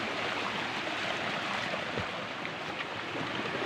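River water flows steadily through a forest in a video game, a broad, constant rushing wash that fills the scene evenly from start to finish, with no voices.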